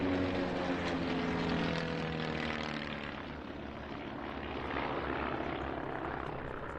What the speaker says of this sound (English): These large formation flybys took place during and above a performance by one of the many